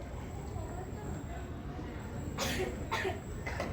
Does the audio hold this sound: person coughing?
yes